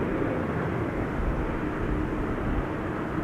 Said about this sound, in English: Embraer 190, arriving from Edinburgh, KLM flight 924